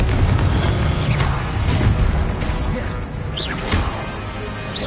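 Confringo blasting spells go off in a video game as a run of loud booms and crashing impacts, with whooshing bursts layered over one another and a voice shouting throughout.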